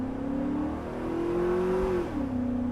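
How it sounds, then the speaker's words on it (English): Chevy SSR convertible pickup truck at full throttle, its engine note climbing steadily in a long, smooth pull before a quick shift drop, loud and continuous with no talking over it. "I'm flooring it."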